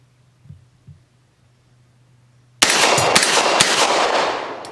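A Dark Storm Industries Hailstorm 9mm pistol fires from a Glock factory magazine. A quiet stretch with a couple of soft thumps gives way to loud, closely spaced shots that ring out and slowly fade.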